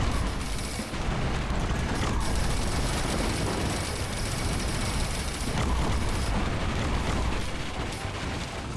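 Dense, continuous barrage of overlapping explosions and booms from the game Risk of Rain 2, loud and relentless with a few brief dips, no voices.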